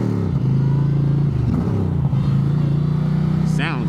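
An Indian motorcycle in its Street Glide version with stock exhaust pipes idles and revs steadily at close range, a throaty, continuous rumble carried throughout.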